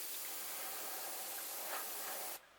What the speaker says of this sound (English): just spray a little bit of yellow around the gill and nose area on both sides